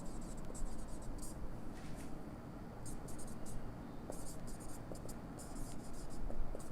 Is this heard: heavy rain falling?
no